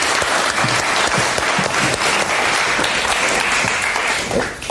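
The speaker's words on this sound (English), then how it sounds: "can we just give a huge round of applause to Nico?" A dense, steady round of applause from a room full of people honoring Nico, loud and sustained throughout with no talk over it, tapering slightly at the very end.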